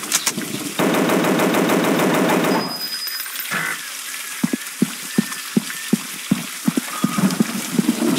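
Gunfire in a mobile dinosaur hunting video game: a loud burst of rapid automatic fire, then a series of sharp single shots spaced about half a second apart, with a faint voice in places.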